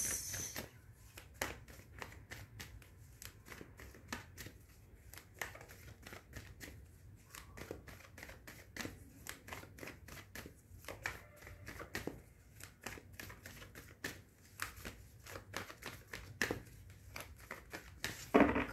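Tarot cards are shuffled continuously in a quiet room, giving a steady, soft riffle of papery flicks and slides at close range with no talking.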